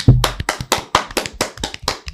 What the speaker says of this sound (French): J'applaudis pour eux.